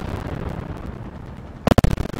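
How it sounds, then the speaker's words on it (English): A sudden burst of sharp, rapid explosions from an 88mm tank gun firing a HEAT round in Fallout 4, crackling in quick succession after a stretch of low rumbling background noise. "That's what happens when you shoot a heat round. They just create millions and millions of explosions"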